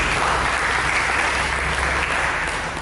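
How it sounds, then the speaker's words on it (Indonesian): A church congregation at a Sunday service breaks into applause, a dense, steady wash of many hands clapping together that holds at full strength throughout and eases off only slightly at the end. "Dengan tepuk tangan bagi Tuhan"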